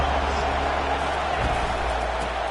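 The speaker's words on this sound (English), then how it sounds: "This crowd bringing the energy and noise early." A packed football stadium crowd at a Gators game gives off a dense, continuous roar of distant voices and cheering, steady and even with no sharp peaks.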